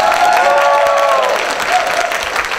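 Audience applause at a sheriff candidates' forum in Dawson County, Georgia, a steady, dense wash of clapping from a crowd with some cheering and voices mixed in, holding loud throughout.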